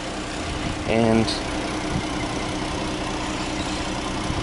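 A 3.2 liter V6 VVT engine in a Jeep Cherokee Limited 4x4 idles steadily with a low, even hum throughout, heard close up with the hood open, while someone briefly speaks over it near the start.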